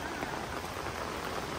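Steady rain patters down at a graveside in calm air, a dense, even hiss with close drops striking surfaces, continuous and without voices.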